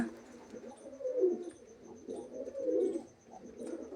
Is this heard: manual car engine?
no